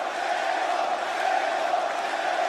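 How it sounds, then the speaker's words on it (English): Wrestling fans roar and cheer for Chad Gable in an arena, a sustained, dense crowd shout that swells slightly and holds steady throughout. "the fans are cheering for Gable"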